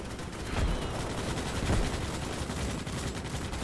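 Gunfire in the video game Starship Troopers: Extermination, rapid overlapping shots and bursts blended into a continuous, rumbling barrage at moderate level.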